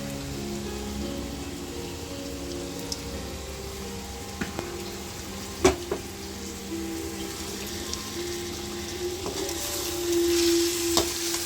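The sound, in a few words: prawn masala sautéing in a pan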